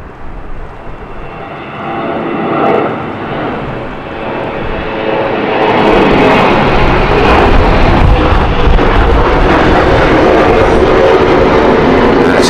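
A German Airways airliner in Frankfurt livery departing London City Airport, its jet engine roar building steadily from a moderate rumble to a loud, sustained broadband thrust as it rolls and climbs out.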